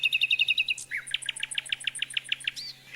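A small songbird, a nightingale, sings a bright rapid series of high chirps and trills, close and clear, with a faint low hum underneath.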